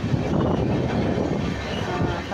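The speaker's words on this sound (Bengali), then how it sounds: "এখন একটু ট্রেনটা স্লো হলো" A train bound for Delhi rumbles as it slows, a loud, close, continuous low roar of wheels and carriages with a broad noisy hum and no distinct clacks.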